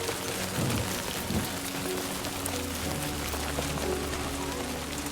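Steady rain from the video game Death Stranding 2 pours as a continuous dense hiss, with scattered heavier patters and a low rumble underneath, loud and unbroken with no talking.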